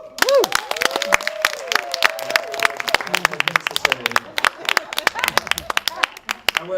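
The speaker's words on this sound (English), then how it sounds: "I want like you to get at least 2, maybe 3 rounds of applause." Applause from an audience at a college poetry reading, a dense burst of many hands clapping that is loud at first and thins gradually over several seconds, with a few voices mixed in.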